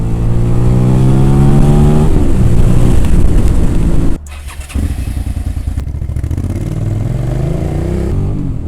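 A 2002 Suzuki SV650 motorcycle revs up through rising gears, loud and close, then drops briefly before pulling away again with a throbbing V-twin engine note.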